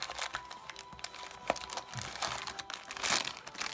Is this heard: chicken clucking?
no